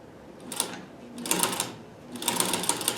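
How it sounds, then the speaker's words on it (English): A Singer 301 sewing machine fitted with a zigzagger attachment runs in three bursts of rapid mechanical clatter, fairly close, with short pauses between them. "I've now put on the Singer zigzagger for slant shank machine, and of course now it's going to make a lot more noise."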